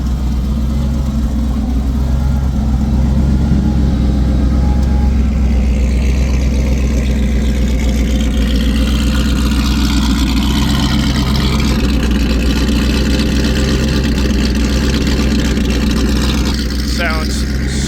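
A Ford SVT Lightning pickup with a custom-built exhaust sits at hot idle, rumbling loud and close with a deep, choppy lope that holds steady throughout.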